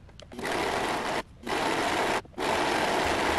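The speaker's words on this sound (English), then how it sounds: "I'm going to serge my raw ends" A serger overlocks raw fabric edges in three steady bursts of fast, high-pitched mechanical whirring, separated by short pauses, close and alone.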